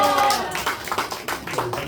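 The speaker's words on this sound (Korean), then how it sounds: "큰 박수로 환영하겠습니다." Brief audience clapping in a church service, moderately loud and scattered, rising and fading over a couple of seconds amid a roomy hall.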